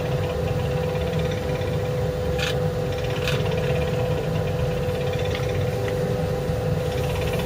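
Stick wax pressed against a spinning wooden mushroom on a wood lathe, giving a steady close rubbing hiss over the continuous motor hum, with a couple of brief scuffs.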